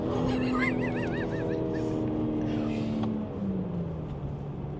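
A 600 whp BMW 340 xDrive pulls hard in second gear, its engine droning loud and steady with a rising tone throughout, voices talking faintly underneath.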